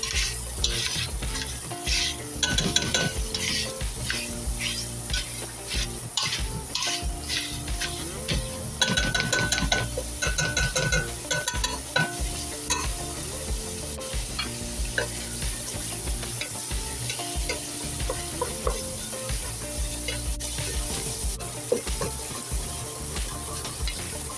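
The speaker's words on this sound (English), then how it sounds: "break the sausage into small pieces and stir frequently" Sausage sizzles and fries in a pot for lentil soup while a utensil stirs and scrapes it, steady crackling hiss with repeated clinking scrapes throughout, no talking.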